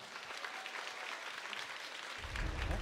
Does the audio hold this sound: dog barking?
no